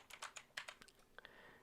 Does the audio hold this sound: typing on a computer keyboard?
yes